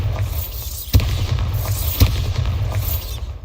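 Bombarda explosion spells cast in the Hogwarts Legacy video game: two sharp booming bursts about a second apart, riding over a steady rumbling background of combat noise.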